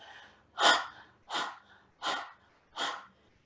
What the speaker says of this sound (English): It's called the breath of fire. And breath of fire is like a dog's breath, okay? Like a puppy panting on a hot day.